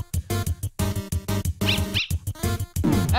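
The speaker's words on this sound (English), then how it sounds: "I constantly pet this dog until it goes, it keeps going." Petting a dog in the Undertale video game sets off a rapid run of bright, chirpy electronic barks and yelps over loud, busy game music, with short bursts repeating back to back.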